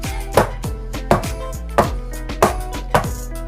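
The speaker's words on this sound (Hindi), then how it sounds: "तो 2-3 बार टैप करेंगे ताकि इसके अंदर जितनी भी एयर है सब बाहर आ जाए।" A greased cake tin filled with eggless banana cake batter is tapped on a counter five times at a steady pace, each knock a sharp, close thud over a low background hum.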